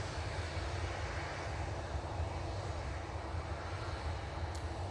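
An SAS Airbus A320neo arriving from Copenhagen at Manchester Airport gives a steady, distant low roar of jet engines, faint and unbroken throughout.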